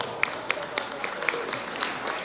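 Audience applause at a municipal ceremony during the Festa da Amizade in Assaré, a steady wash of clapping from a crowd with a few louder claps standing out, moderately distant.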